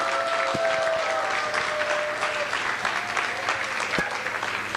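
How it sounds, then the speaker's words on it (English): Sustained applause from a church congregation at a family service celebrating graduating young people, steady clapping throughout with a faint tonal hum beneath and a couple of sharp louder claps. "Let's give another round of applause to Jaime for organizing this graduation"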